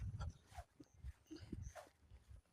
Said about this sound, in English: This dog is 10 years old